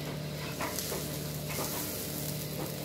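Egg fried rice stirred in a hot pan, a steady close sizzle and frying hiss with faint scraping stir strokes throughout.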